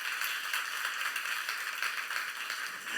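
A church youth congregation claps together during a Korean sermon, a dense, even patter of many hands lasting the whole stretch with no voices over it.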